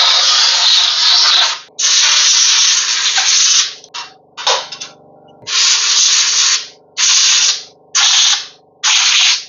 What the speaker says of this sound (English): Good practice is to dust off your machine.